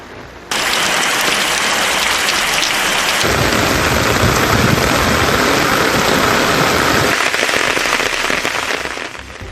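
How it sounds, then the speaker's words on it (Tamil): Heavy night-time rain pours down hard and steadily, close and loud, with a deeper rumbling surge of thunder midway through a continuous downpour. "நள்ளிரவில் இடியுடன் கூடிய கனமழை கொட்டி தீர்த்தது"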